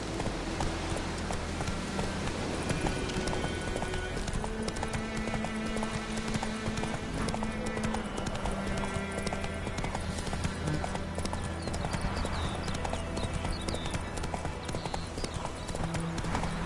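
Roach, Geralt's horse in The Witcher video game, gallops with a rapid, rhythmic clip-clop of hooves that runs steadily throughout, close and loud over a bed of game music.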